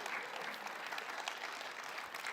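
Church congregation applauding a man who has served at the front door for 25 years, a steady, moderately distant wash of clapping that fills the whole short moment with no voices over it.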